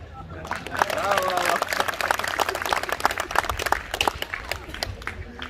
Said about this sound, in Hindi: अब ताली बजा।